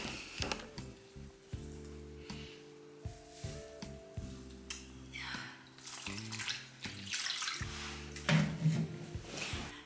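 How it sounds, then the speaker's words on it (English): Tap water runs and splashes in a bathroom sink while a face is rinsed, heard as irregular close splashing bursts over a steady tonal background hum. "I'm just gonna go to the bathroom, rinse this off my face, and then we'll be back."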